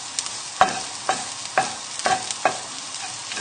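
Garlic and shallots fry gently in a pan while a utensil stirs them, giving a soft background sizzle broken by about six distinct scraping clinks at an uneven pace, close and quiet.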